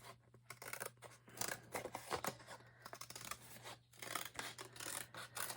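Scissors cutting a paper strip for a hardcover book journal: quiet, close, repeated snipping and rubbing strokes in an uneven rhythm, with a steady low hum underneath.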